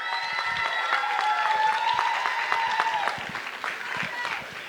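Audience applause for student singers at the 3rd Annual Paulding's Next Star talent show, a steady wash of clapping mixed with crowd voices and some tonal cheering throughout.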